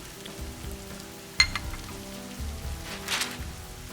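Rain pours down onto a porch as a soft, steady hiss, fairly faint, with a few brief drips and taps breaking through the constant patter.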